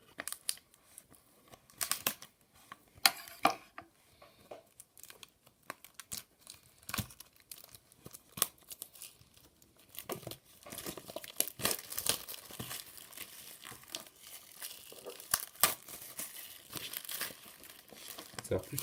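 Packaging of a refurbished iPhone 6s is torn open and handled, giving close, intermittent crinkling, rustling and tearing that grows busier toward the end, with no speech.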